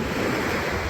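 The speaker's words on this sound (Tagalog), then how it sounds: "Alon!" Sea waves wash steadily at East Coast Beach, Singapore, in early evening, a continuous close rush of surf with some wind noise on the microphone.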